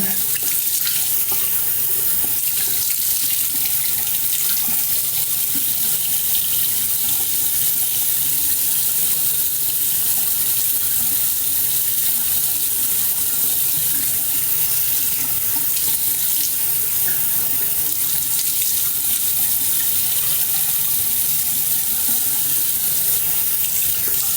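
A bathroom tap runs steadily for face washing, a constant loud rush of water with no break and no talking.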